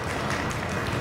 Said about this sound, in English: we've got the applause sound effect there